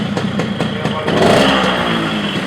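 A Yamaha RX King motorcycle's engine runs loud and close with a rattling, buzzy tone, swelling briefly in a rev partway through before settling back to a steady idle, with voices heard over it.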